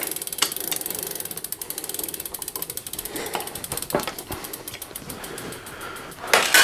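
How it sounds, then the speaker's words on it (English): An 8mm wrench ratchets in rapid, close clicking bursts while tightening the crank bolts on a Giant Escape bicycle, with a few brief pauses between strokes. "And while I got the 8mm out, tug on these crank bolts a little bit."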